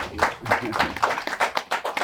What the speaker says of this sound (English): Please, can we give a round of applause?